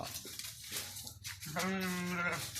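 A sheep let out in front of a house gives one drawn-out, wavering bleat, fairly close, after a stretch of faint background noise.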